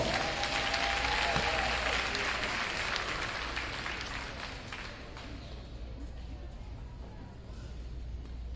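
A high school class night crowd applauds steadily after student names are read, dense clapping that fades somewhat over several seconds, with a faint tone heard early.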